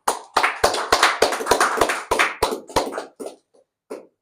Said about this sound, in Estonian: teeme talle aplausi.